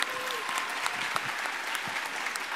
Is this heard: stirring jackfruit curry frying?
no